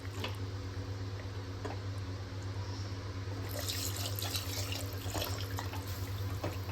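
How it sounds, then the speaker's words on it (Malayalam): Water runs and splashes steadily into a pot of jackfruit dum biryani masala, growing a bit louder partway through, with a few faint clinks and a low background hum. "ഇനി നമുക്കിതിൽ ആവശ്യത്തിനുള്ള വെള്ളം ഒഴിക്കാം"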